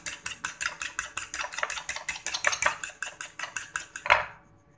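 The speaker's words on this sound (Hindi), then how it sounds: "फेंट लेना, ताकि ये दोनों चीज़ें मिक्स हो जाएं" A fork or whisk beating eggs with salt and garam masala in a bowl, a steady run of quick, sharp metallic taps close up, ending with a final louder clink.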